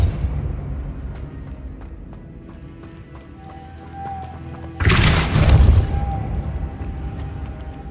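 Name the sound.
Depulso spell impacts in video game Hogwarts Legacy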